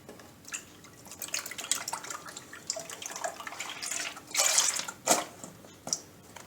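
Half a litre of milk pours into a saucepan for a cream filling, giving a continuous splashing, trickling stream with a louder surge of liquid toward the end.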